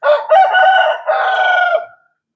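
A rooster kept with chickens and ducks at a rural house crows loudly and close by, one long drawn-out call broken into two or three sustained segments, alone with no other sound.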